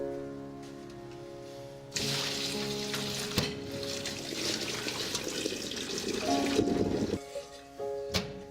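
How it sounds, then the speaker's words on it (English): Boiled pork belly rinsed under a running kitchen tap, water gushing and splashing against the meat and sink for several seconds after a quieter start, then cutting off. "Remove the pork from pot, then rinse with running water."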